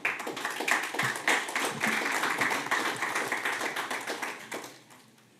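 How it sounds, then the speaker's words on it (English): A round of audience applause at a city commission meeting in Boynton Beach, Florida: a burst of fairly faint, dense clapping that holds steady for several seconds, then tapers off to quiet. "So give them a round of applause, guys."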